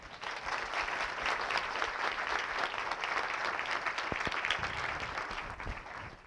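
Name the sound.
audience applause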